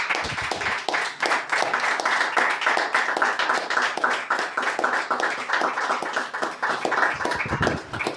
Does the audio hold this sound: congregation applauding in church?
yes